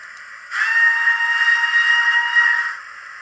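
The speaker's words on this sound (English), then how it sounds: "long whistle" A model steam locomotive's digital sound unit gives one long steady whistle with a hissy edge, starting abruptly, holding for about two seconds and then cutting off, alone over a quiet background.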